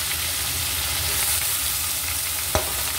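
Chopped onions fry in oil with whole garam masala for an Indian-style chicken curry. A steady, close sizzle runs throughout, with one sharp click near the end.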